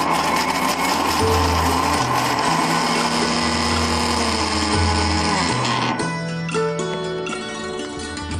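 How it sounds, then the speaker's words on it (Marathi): A kitchen mixer grinder whirs loudly and steadily as it grinds torn bread pieces into fresh breadcrumbs. The motor's pitch shifts partway through, with no talking. "ब्रेड घ्यायची, त्याचे तुकडे करायचे आणि मिक्सरमध्ये बारीक करायचं।"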